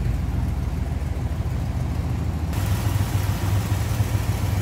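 A Buick 401 cubic-inch V8, from a 1965 Buick and fitted in a 1962 Buick LeSabre hardtop, idles smoothly up close, with a steady low rumble and even pulsing throughout.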